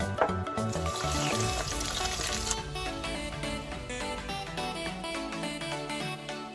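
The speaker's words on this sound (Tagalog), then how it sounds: "And we are going to fry it." Flour-dusted milkfish (bangus) fries in a pan, its crackling sizzle strongest early and partly buried under background music.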